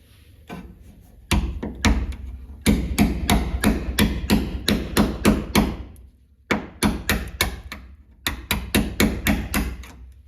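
A 2.5 pound hammer taps and chips at hardened putty in quick clusters of sharp, close knocks, broken by short pauses, with no talking.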